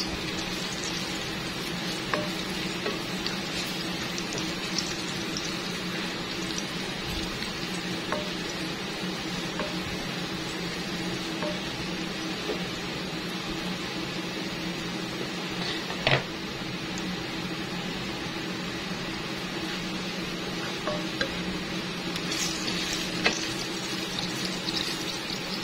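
Garlic frying until light brown for a pork afritada, a steady, even sizzle with small pops that carries on without a break and with no voices.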